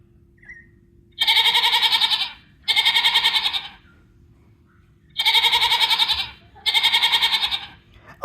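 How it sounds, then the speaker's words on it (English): A goat bleats loudly and close by in four drawn-out, wavering calls, grouped as two pairs with a pause between them, with no voices over it. "that has got to be a goat"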